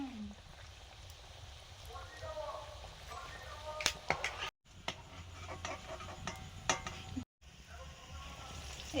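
Devilled duck egg chops frying in a pan of hot oil, a soft continuous sizzle with faint crackles and occasional clatters, heard close under intermittent talking.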